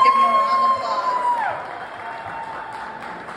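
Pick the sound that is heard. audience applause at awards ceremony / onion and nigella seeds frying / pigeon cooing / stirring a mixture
audience applause at awards ceremony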